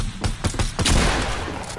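Rapid bursts of PS4 video game gunfire, several sharp shots in quick succession followed by a rumbling boom that trails off.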